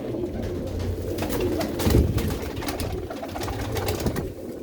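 Pigeons in a loft cooing, soft repeated low coos from several birds close by, with faint rustling and no talking.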